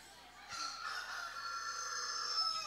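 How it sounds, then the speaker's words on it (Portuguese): A rooster crows in a single drawn-out, fairly faint call with a steady tonal line, set back from the listener against a quiet background. "Olha, o galo cantou."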